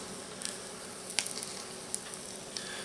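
A bacon omelet fries in a small pan over a hot butane stove, giving a steady close sizzle with a few faint scraping clicks and no talking.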